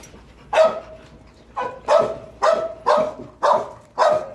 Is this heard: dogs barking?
yes